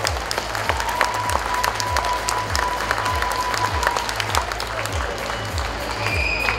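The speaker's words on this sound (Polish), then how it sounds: "I tu naprawdę należą się ogromne brawa." Strong, sustained applause from a gala audience honoring a youth football team at the Orlęta Spomlek football gala, with dense clapping throughout and a steady low rhythmic hum underneath.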